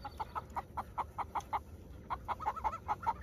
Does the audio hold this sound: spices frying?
no